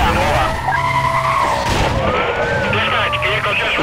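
Porsche Carrera race car in Need for Speed: Most Wanted, tires skidding and engine whining loudly throughout, with a siren-like rising tone joining midway over steady road roar.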